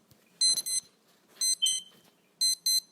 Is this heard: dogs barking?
no